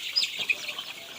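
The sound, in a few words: chickens clucking before vaccination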